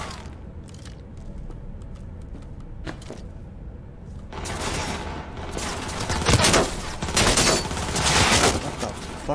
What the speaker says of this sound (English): What the fuck are they shooting from?